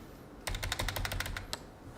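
Quick typing on a computer keyboard at a PC, about a dozen crisp, close key clicks in a fast run ending with one firmer keystroke, over a faint steady hum.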